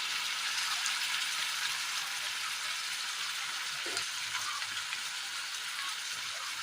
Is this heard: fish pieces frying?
yes